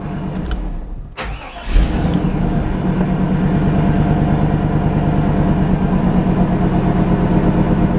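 An OBS GMC/Chevy pickup truck engine cranks with brief clicks, catches, and settles into a steady, moderately loud idle, heard up close with no talking.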